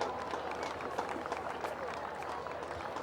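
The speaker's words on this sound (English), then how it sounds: "A round of applause for Alex Malcolm." Crowd applause at a high school football semifinal, Buena vs. West Deptford, as an injured player hobbles off; steady, distant clapping from the stands under murmuring talk.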